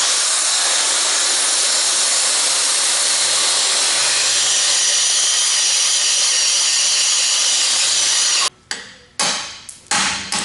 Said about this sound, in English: we'll run a die grinder cut down one side, relieve some tension